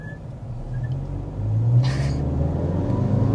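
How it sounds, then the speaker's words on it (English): Another car nearby at a long stoplight does a burnout, its engine revving into a rising roar with a brief hiss of tire spin, heard from inside a 2025 Mazda CX-5 as a steady, moderately loud rumble. "2 burnouts in a row"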